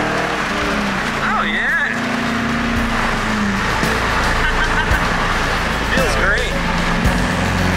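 A Chevrolet Corvette engine drones steadily from inside the car during a ride-along, loud and constant, with people talking over it.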